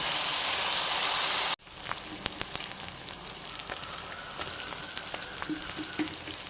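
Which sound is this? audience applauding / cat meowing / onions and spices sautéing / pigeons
onions and spices sautéing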